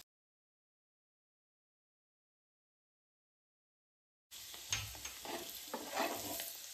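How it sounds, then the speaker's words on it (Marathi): Mustard seeds sizzle and crackle in hot oil for tempering while wet turmeric pickle is prepared, the frying beginning abruptly after a long silence and continuing as a close, busy spitting hiss with scattered pops. "गरम झालं की आपण यामध्ये मोहरीची फोडणी घालणार आहोत"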